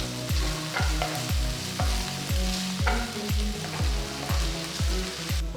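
Chopped onions, ginger, garlic and green chilies sauté in oil for a prawn dish. A spoon strikes and stirs the pan in a regular rhythm, about twice a second, over a continuous sizzle.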